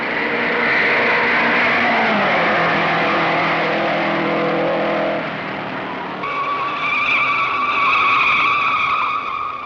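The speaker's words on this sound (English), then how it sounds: "It's a spin. Jimmy Bryan loses it in the first turn." A race car at the 1956 Indy 500 spins in the first turn with a long, loud tire squeal and skid over engine roar, the screech holding for several seconds before shifting to a higher, steadier whine.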